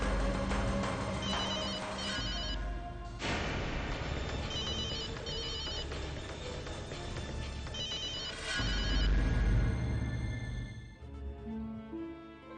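A phone rings unanswered, its musical ringtone repeating in bursts over roughly twelve seconds before trailing off, with no one speaking.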